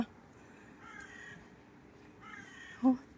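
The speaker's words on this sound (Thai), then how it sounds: "สวนที่เต็มไปด้วยอีกา" Crows caw in a park, a few harsh calls spread across about three seconds with a sharper, closer caw near the end, over quiet outdoor background.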